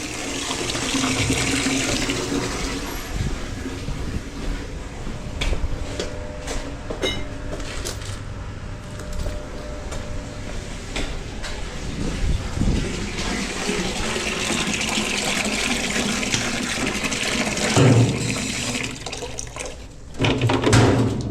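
Water runs steadily from a tap, filling a container during work on a blocked drain, a continuous close rushing with occasional knocks and clatter.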